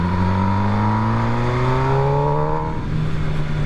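A 2022 MV Agusta Brutale 1000RS, a 208 hp motorcycle, accelerates hard with its engine note climbing steadily in pitch through the revs. The roar is close and loud, with no talk over it.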